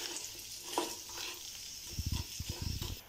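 Fried chickpeas being stirred and sautéed in a pan for chana garlic masala, a soft sizzle under a series of scraping, knocking strokes of a spoon against the pan.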